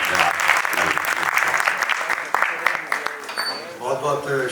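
Audience applause greets poet Naveen Neer at a shayari recital, a dense sustained clatter of many hands clapping that runs through the whole stretch and thins slightly toward the end.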